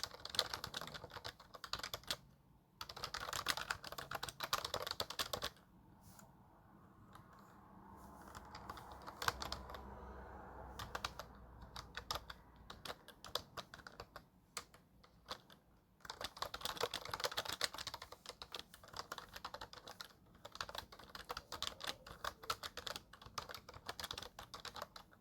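Someone types on a computer keyboard, entering a product description: bursts of quick, close key clicks separated by short pauses, fairly quiet and with no voices.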